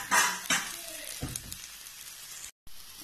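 Oil sizzles in a pan while an eggless omelette fries, with a few louder crackling bursts at the start that settle into a soft steady hiss, briefly cut off near the end.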